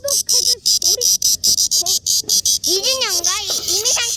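A large brown cicada (mal-maemi) calls loudly and close by in rapid, choppy pulses that merge into a continuous buzzing drone with wavering tones near the end.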